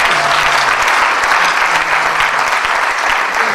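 A church congregation claps and cheers in praise, dense continuous applause filling a large space, with faint voices mixed into the crowd noise throughout.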